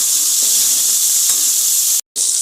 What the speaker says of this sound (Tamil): அடுத்து தக்காளி சேர்த்திக்கலாங்க. 2 தக்காளி பழம்.